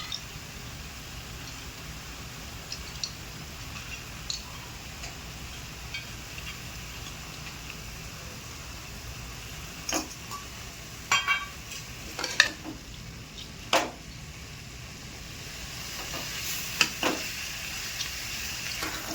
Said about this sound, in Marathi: आता मुगाची डाळ टाकायची